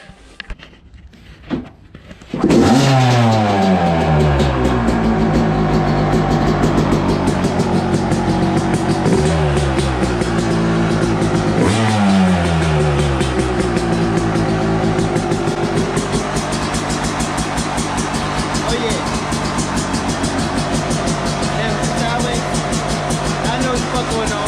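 A dirt bike engine catches after a couple of quiet attempts, then runs loud and close with a steady idle, broken by several sharp revs that rise and fall.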